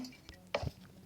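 A glass block is placed in Minecraft, giving a short, faint glassy clink with a small soft thump. The sound is quiet and brief.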